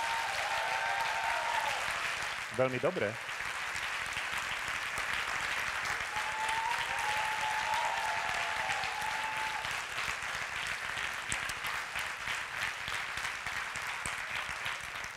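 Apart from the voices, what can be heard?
audience applause at awards gala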